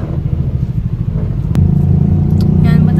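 Road traffic slowed near an accident on the way toward Alabang, with a steady low engine rumble from cars around, a sharp clatter midway and vehicles idling and moving close by.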